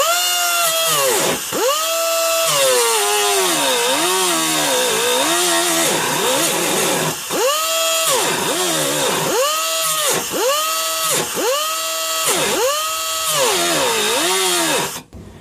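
A pneumatic cut-off wheel labours through metal, its whining pitch repeatedly sagging and recovering as it bogs down under load. The sound is loud, close and continuous, with rhythmic dips and no talk.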